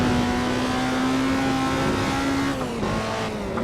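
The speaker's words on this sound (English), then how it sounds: "love hearing it wind out like that." A car in the Assetto Corsa racing game winds out under hard acceleration, its engine a loud, steady rising whine before a gear change drops the pitch, with no voices.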